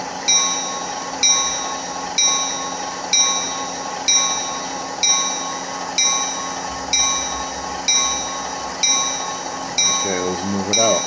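A model locomotive bell from an ESU LokSound sound decoder, fitted in an Athearn Genesis SD70ACe, rings steadily at an even pace of about one strike every 0.6 seconds, loud and close, with a brief rumble near the end.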